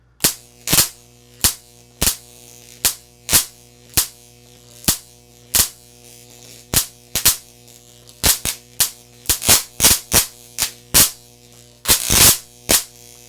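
Loud sharp cracks of electric sparks jumping the gap of a homemade capacitor, snapping repeatedly in an irregular rhythm over a steady electrical hum.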